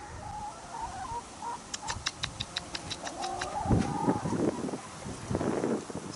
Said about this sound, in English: I'll let the hens have a run round.